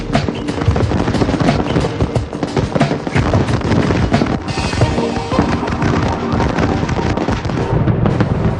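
Electronically fired fireworks show with shell blasts bursting in a dense, nonstop barrage, loud and crackling throughout with booms layered over one another.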